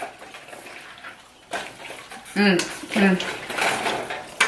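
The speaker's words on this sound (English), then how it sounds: "I'm going to go ahead and stir it in right here" A spoon stirs gumbo sauce in a cooking pot, making wet sloshing and scraping knocks against the pot that come in uneven bursts and grow louder partway through, with brief voice sounds mixed in.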